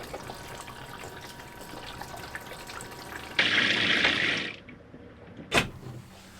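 Water from a caravan shower runs in a steady hiss, then surges louder for about a second before it cuts off, followed by a brief sharp knock or splash, with no talking.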